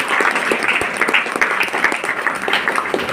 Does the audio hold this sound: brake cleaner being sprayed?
no